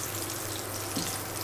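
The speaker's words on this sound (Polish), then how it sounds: "teraz przystępujemy do smażenia naszego karpia. Wkładamy go na gorący tłuszcz." Carp pieces frying in hot goose fat in a pan, a steady broadband sizzle with a soft low bubbling underneath and no talk.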